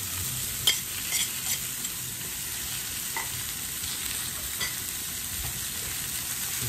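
Garlic and spring onion sizzle steadily in hot oil in a pan, a close, even crackle with a few light clicks of stirring.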